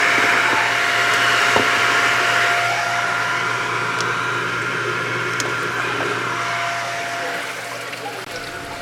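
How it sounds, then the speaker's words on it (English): An aquarium's main circulation pump runs alongside a refrigeration unit, making a loud, steady mechanical whir and rush of water that holds constant throughout with no talking. "plug in the main circulation pump, as well as begin to open up the 3 valves"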